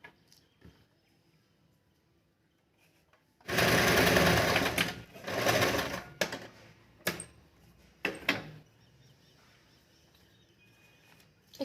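An electric sewing machine runs a straight line of stitching across a joint in salwar fabric, a loud whirring burst followed by several shorter runs and stops, close by with quiet pauses between.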